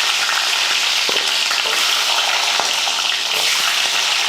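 Small onions fry in hot oil for a tempering with mustard seeds and curry leaves, a loud, close, continuous crackling sizzle with faint clicks of stirring, no voices.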